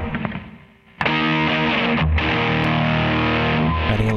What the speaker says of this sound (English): RAT, which is just kind of a metal distortion for lack of a better explanation.